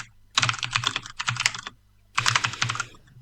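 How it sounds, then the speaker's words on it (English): Typing on a computer keyboard in two bursts of quick, close key clatter separated by a short pause, with no voice. "Let me just get into typing."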